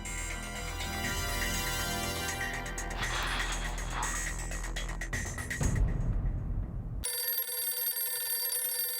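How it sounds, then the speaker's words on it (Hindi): A telephone rings with a bright, repeating electronic tone over a busy background of music and noise, then the ringing continues alone, clear and close. "पोपटलाल का फोन। हाँ तो काट दे। क्यों काट दे? उठाना नहीं?"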